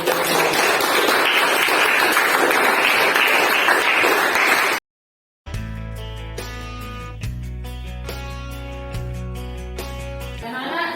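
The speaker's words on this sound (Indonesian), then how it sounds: "Beri tepuk tangan untuk kelompok mawar." A group claps loudly and continuously for several seconds, then a brief silence before music with steady tones begins.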